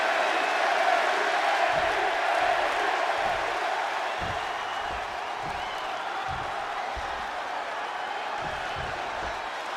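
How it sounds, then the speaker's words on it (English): Arena crowd in Chicago roaring in a wrestling video game, a steady loud wash of cheering with low thumps at intervals, no talk over it. "And just listen to this crowd here in Chicago."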